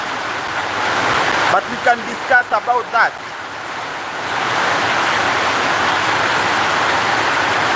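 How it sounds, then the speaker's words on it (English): Steady rain falling outdoors, a broad constant hiss that fills the whole stretch, loud and close to the microphone, with someone speaking briefly partway through. "Since it's raining"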